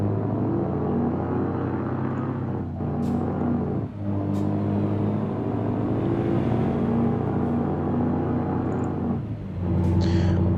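A Scania V8 truck with an open exhaust, hauling 23 tons in Euro Truck Simulator 2, drones with a deep steady engine rumble, briefly dipping and rising again as gears change, loud and continuous.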